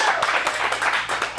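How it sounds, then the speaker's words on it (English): An audience at a youth improv showcase claps for a few seconds, a quick round of brisk, uneven hand claps heard close and without talk. "So let's get a round of applause for the interpreter."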